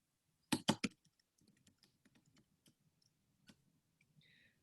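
A quick burst of three loud keystrokes on a computer keyboard is followed by scattered, much fainter taps and clicks in an otherwise quiet room.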